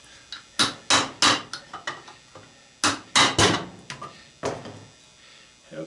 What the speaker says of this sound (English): Get your hammer and your punch,